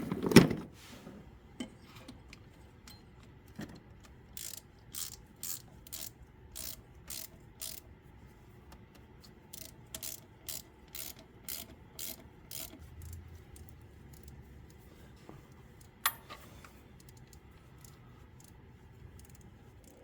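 A hand ratchet clicks in short bursts while nuts are bolted down on a Honda Prelude part, close and fairly quiet, with pauses between strokes and some rubbing handling noise.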